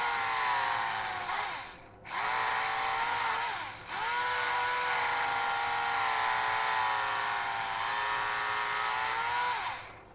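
A small Tamiya hobby drill/router cutting a plastic part off, giving a steady high-pitched motor whine with a buzzing grind that briefly drops out twice early on, then runs continuously and loud to the end.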